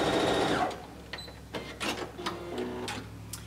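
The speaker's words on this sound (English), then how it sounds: "And stitch down on it again." Sewing machine stitching fabric for a pumpkin leaf: a short steady run of stitching at the start, then quieter, scattered bursts and clicks as the work is pivoted and sewn again.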